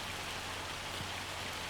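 Heavy rain pours down in Farming Simulator 25 while a tractor plants grass, a dense, steady hiss of downpour drumming on surfaces, constant and close with no breaks.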